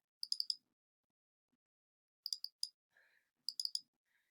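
A computer mouse gives three quick bursts of sharp, close clicks, each a cluster of three or four, during a graphics-editing session. A faint short blip sounds between the bursts, and the background is otherwise silent.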